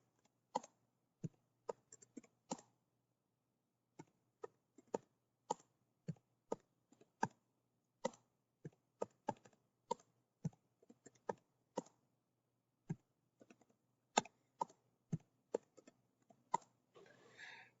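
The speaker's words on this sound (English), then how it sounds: "hopefully I typed those in right" Numbers keyed into a calculator, a quiet, close series of crisp individual button clicks in irregular bursts with short pauses, ending in a faint cluster of rapid taps.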